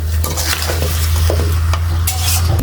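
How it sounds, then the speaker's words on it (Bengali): Pickle mixture with sugar being stirred in a pan over low heat, a steady close scraping and gentle sizzling with occasional clinks of the spoon against the metal, continuous throughout. "চিনি দিয়ে আমি ভালোভাবে মিশাই নেব"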